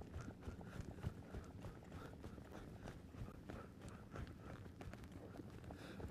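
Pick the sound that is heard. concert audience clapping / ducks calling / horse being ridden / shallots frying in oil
horse being ridden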